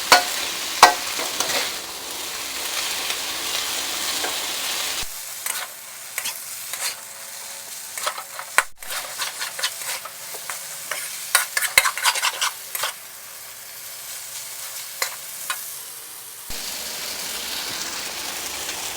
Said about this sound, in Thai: อันนี้ก็ใช้ไฟแรงผัด